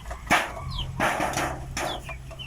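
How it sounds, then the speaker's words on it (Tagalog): Free-range heritage chickens clucking nearby in a few loud bursts, with short squawks and soft background calls from the flock. "Ini-enjoy ko naman itong aking pag-aalaga ng mga heritage chickens mga kaputak."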